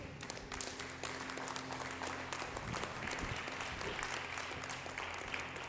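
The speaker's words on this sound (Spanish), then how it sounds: "Dale un aplauso al Señor." Congregation applauding inside a church during a sermon, a steady wash of clapping from many people that fills the room at moderate level, with faint tonal sound underneath.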